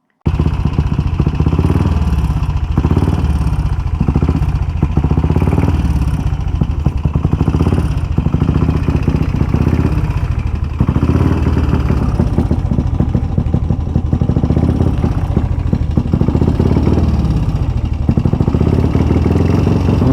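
A Velocette Venom motorcycle engine runs loud and close, with a steady rhythmic thumping and clattering that continues throughout.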